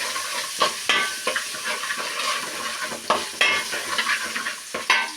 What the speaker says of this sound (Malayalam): ഇനി ഇഞ്ചി വെളുത്തുള്ളി പേസ്റ്റാണ് ആഡ് ചെയ്യുന്നത്